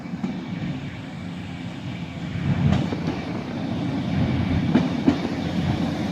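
A Class 175 diesel train departs Crewe station on the West Coast Main Line, its engine rumble building steadily with a few wheel clicks, heard from the platform at moderate distance.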